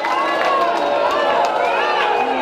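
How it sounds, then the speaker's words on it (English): A boxing crowd applauds and cheers after a split-decision bout between Craig Stewart and Erla Paplauskas, a steady, loud wash of clapping and shouts throughout. "Ladies and gentlemen, give them a big round of applause"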